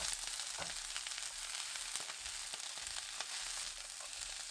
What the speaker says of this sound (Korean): 1분 볶은 뒤 불 끕니다.